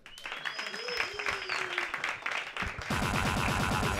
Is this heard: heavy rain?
no